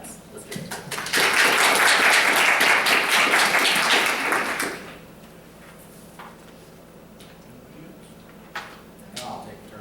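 A school board meeting room erupts in a burst of applause. Dense clapping lasts about four seconds, then cuts off into quiet room tone with scattered small knocks and shuffling.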